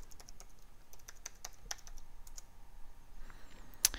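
Keys tapped on a computer keyboard while a password is entered to log in to a Mountain Lion server over SSH, a quick run of light, close clicks with short pauses and one sharper click near the end.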